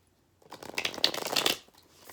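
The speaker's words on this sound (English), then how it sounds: "I want to make sure I shuffle well, and that card is still on the bottom" A deck of cards being riffle shuffled close by, a quick burst of fluttering clicks lasting about a second, followed by a soft settle.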